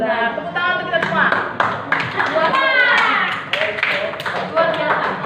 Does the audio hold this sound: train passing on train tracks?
no